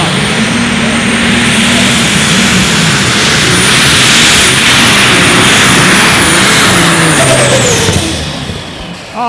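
An unlimited-class pulling tractor roars at full power through a pull at an outlaw pulling event in David City, Nebraska, a loud, sustained engine drone that holds steady for about eight seconds and then fades near the end, with crowd or announcer voices mixed in.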